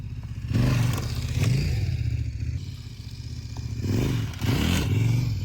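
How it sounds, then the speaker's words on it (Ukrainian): A heavy touring enduro motorcycle on worn tyres climbs over a wet, slippery log. The engine revs in close bursts with clattering and scraping, and no one speaks. "ви їдете на важкому великому мотоциклі на зношеній гумі. Так само, як в мене зараз."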